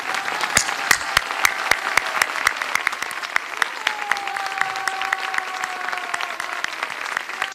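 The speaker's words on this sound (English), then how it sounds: "let us stand up and applaud them for 1 minute" An audience at a Berlin International Women's Day 2022 event stands and applauds for the women of Ukraine, dense steady clapping from a crowd lasting throughout, with a faint tonal line and light murmur underneath.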